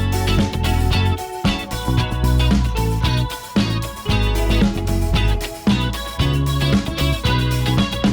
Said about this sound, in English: I decided to go for like the classic disco drum